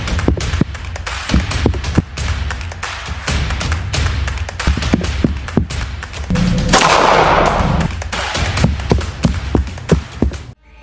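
Rapid bursts of gunfire crack out in irregular volleys in a film soundtrack, loud and close, with a brief rushing noise in the middle; no talking.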